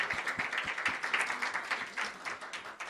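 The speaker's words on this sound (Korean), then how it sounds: "우리 6분 세우신 하나님께 영광의 박수로 올려드리도록 하겠습니다" Sustained applause from a church congregation at a Korean Sunday service, a steady dense patter of many hands clapping at fairly low volume throughout, with no pause.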